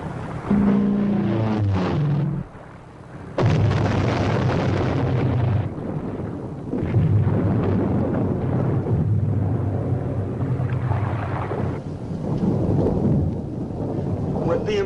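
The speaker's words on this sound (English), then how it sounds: "Rig for depth charge attack." Heavy, rumbling booms of underwater depth charges exploding around a WWII submarine roll through in several long surges, deep and muffled, with brief quieter gaps between them.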